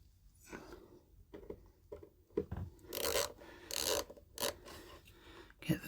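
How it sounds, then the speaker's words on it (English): A small hand ratchet drives screws up into the underside of a model railway baseboard, with rasping, rubbing turns in irregular bursts that grow louder toward the end, close by and without talk. "So what I use a little ratchet,"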